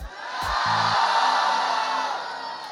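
A big crowd at Greta Thunberg's climate rally in New York cheers, a swelling roar of many voices and whoops that holds loud for a couple of seconds before easing slightly.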